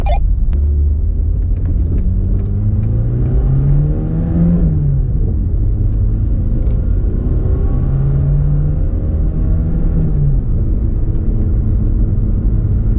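A Lancia Beta Monte Carlo's engine pulls steadily under acceleration, its pitch rising through two long climbs, with a constant road rumble underneath.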